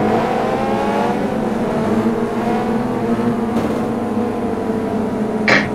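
Race car engines from the Test Drive Eve of Destruction video game drone in a steady, continuous roar with layered harmonics. A short bright burst comes near the end.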